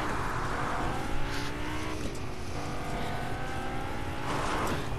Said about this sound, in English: Now we are driving the green Lamborghini to zone, guys.